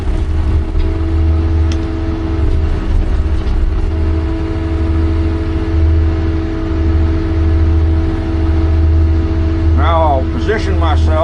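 Jackson 6700 rail tamper with its work head lowering, a steady low engine drone and hydraulic hum running throughout, with a brief rising whine near the end.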